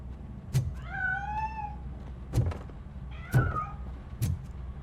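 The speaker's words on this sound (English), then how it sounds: "That cat must be hiding inside." A cat meows several times in the video game RoboCop: Rogue City, with clear, rising and falling cries between sharp knocks and thumps in a quiet indoor scene.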